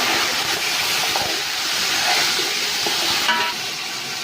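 Loud, steady sizzle of onions and tomatoes frying in a pan for aloo matar gajar pulao, a dense continuous hiss with faint stirring scrapes, close up.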